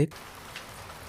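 Steady light rain patters across the whole clip while hiking from Bichanakandi to Jaflong near the Bangladesh border, a soft continuous hiss with a brief thump at the very start.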